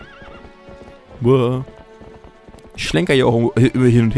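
Horse in The Legend of Zelda: Twilight Princess HD being ridden, hoof clip-clop and whinnying game sounds mixed beneath someone talking steadily over the gameplay.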